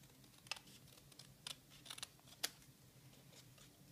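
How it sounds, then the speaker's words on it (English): Paper snips cutting out a stamped ice cream cone image for a birthday card, a few faint sharp snips spaced apart in a quiet room. "grab my paper snips,"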